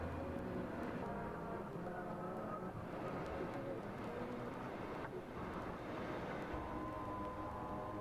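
Steady droning of road traffic, like standing beside a highway, blended into an ambient album track; a dense continuous wash of cars passing with music-like tones layered through it, unbroken throughout.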